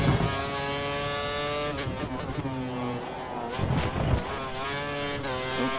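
Formula 1 race car engines whine at high revs as cars pass on track, loud and close, with pitch shifts and gear changes.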